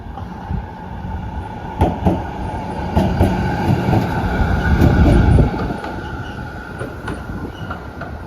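A Z3 class tram on Route 67 rolls by near its depot with a steady rail rumble, rhythmic wheel clicks over joints and faint squealing wheels, swelling loud at mid-pass before easing off.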